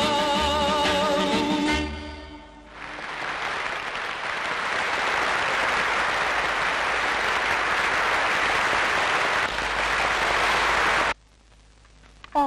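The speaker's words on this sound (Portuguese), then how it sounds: "Não ouviu as palmas, os aplausos que ele teve?" A theatre audience bursts into loud, steady applause for a performer just after a short burst of music; the clapping holds for about eight seconds, then cuts off abruptly into near silence.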